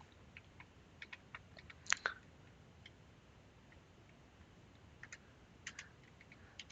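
Keys on a computer keyboard are tapped faintly and sparsely as a username is entered into a banking software login screen. The clicks come in small scattered clusters over a quiet background.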